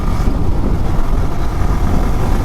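Motorbikes, including a Yamaha FZS, are ridden hard and fast on a four-lane road. A loud, continuous engine roar mixes with heavy wind rumble close to the mic.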